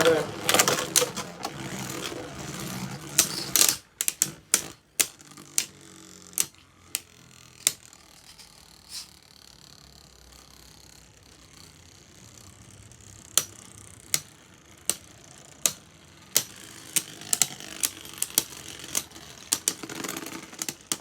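Hasbro Beyblade Burst tops, including Glide Roktavor, clashing in a stadium battle: sharp, irregular metallic clicks and knocks, some clustered, others spaced apart, over a quieter spinning rattle with a voice talking in places.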